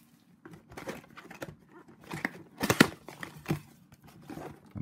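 Plastic wrapping on a 2022-23 Upper Deck O-Pee-Chee NHL hockey card blaster box crinkles and tears in close, irregular bursts, with a few sharper rips midway and no talk.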